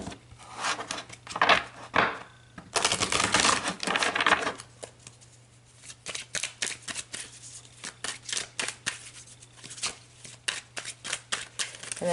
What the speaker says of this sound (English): And I'm going to shuffle these really well to make sure it's all your energy.